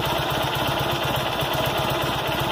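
A cold Kohler M18 engine on a Cub Cadet 1882 garden tractor idles at very low RPM, a steady, fairly quiet rhythmic chugging with no voices.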